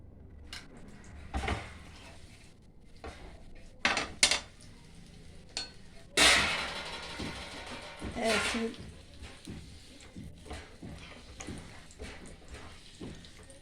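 Dates pressed and mashed in ghee in a pan, with scattered metal-on-pan scrapes and clinks, one longer scraping rub in the middle, close and moderate amid quiet gaps.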